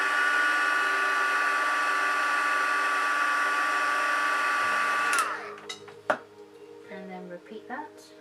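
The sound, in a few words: heat setting paint with a heat tool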